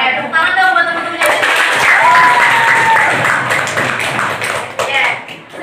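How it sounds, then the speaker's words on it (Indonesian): Classmates in a classroom break into clapping, a dense burst of applause with voices cheering and calling over it, loud and close, tapering off toward the end. "tepuk tangan dong buat teman-temannya"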